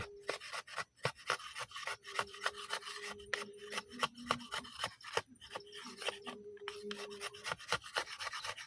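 Bamboo scraped by hand to make kindling outdoors, a quick series of dry rasping strokes, close and fairly quiet, with irregular rhythm and short pauses between scrapes.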